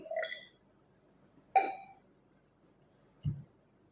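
Distilled water is added to a sample in a glass boiling tube, producing a few short, separate liquid pours and glassy clinks spaced about a second and a half apart in an otherwise quiet room.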